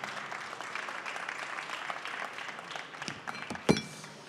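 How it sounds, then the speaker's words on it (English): Audience applause for two speakers at a green economy panel session on water, a dense, steady patter of many clapping hands at moderate distance, ending with a louder thump near the close. "let's give a big applause to the two speakers"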